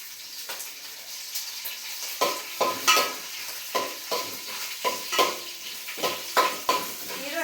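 Chana dal and urad dal fry in hot oil in a pan for vegetable shavige bath. There is a soft, steady sizzle with a series of sharp spoon scrapes and clanks against the pan, close by and with no talking.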